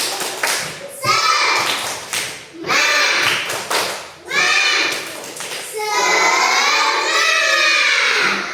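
A school class performs a rhythmic clapping cheer, loud and close, with children's voices chanting in bursts between sharp rounds of claps and a longer sustained shout near the end.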